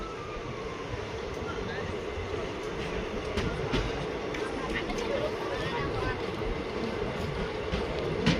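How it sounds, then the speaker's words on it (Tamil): The Ananthapuri SF Express pulls into a station, a steady loud rumble of rolling wheels and rail noise with faint clacks throughout, and a voice speaks over it. "கரெக்டாக 15 நிமிஷம் டிலேவோட நம்ம ட்ரெயின் வந்து அரைவ்ட் ஆகிருக்கு"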